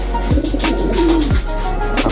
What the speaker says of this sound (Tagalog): Ayan, mga kalapatid.